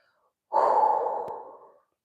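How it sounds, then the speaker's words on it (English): A single deep, close exhale during a kettlebell mobility stretch, a breathy rush lasting over a second that swells quickly and then fades away. "Big breath."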